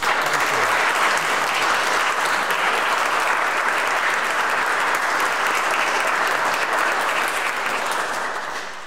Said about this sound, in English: But another round of applause,